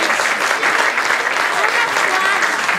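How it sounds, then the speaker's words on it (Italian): Sustained applause from an audience at a CSI Lecco anniversary ceremony, honouring the memory of the association's founder; steady dense clapping fills the whole stretch, loud and even, with voices mixed into the crowd. "Facciamo un applauso alla memoria"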